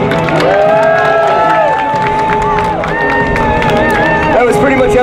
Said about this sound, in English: how many of you, by a round of cheering and clapping, would like to see a show right now?